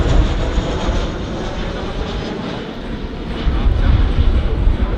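An MH-60R Seahawk helicopter roars loudly and continuously nearby at an airshow, a dense engine rumble filling the whole stretch.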